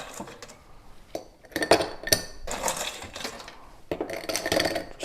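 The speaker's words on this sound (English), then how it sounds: "We're going to add some ice." Ice cubes drop and clatter into a highball glass in several bursts, with sharp clinks and rattles of ice against glass, close and fairly loud, with no speech.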